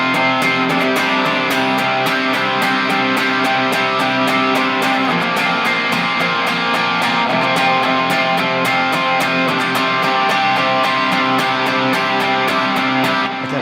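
An electric guitar strums steady downstrokes on a middle-register 5 chord in a loud, even, driving rhythm for the whole stretch, with no talk.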